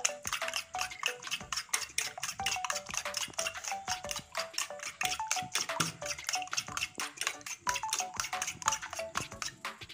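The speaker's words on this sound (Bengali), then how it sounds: "এখন ডিমটা আমি ফেটিয়ে নিচ্ছি, হলুদ ছাড়াই ভাজবো।" Eggs being beaten with salt in a bowl, a fast steady run of close clicking whisk or fork strikes against the bowl with liquid slaps, continuous for ten seconds with no voices.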